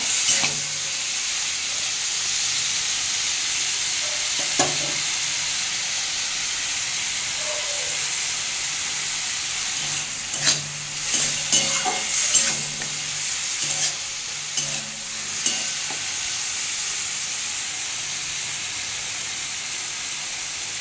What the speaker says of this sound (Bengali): আমি এবার এই চিংড়ি মাছটা একটু ভেজে নেব।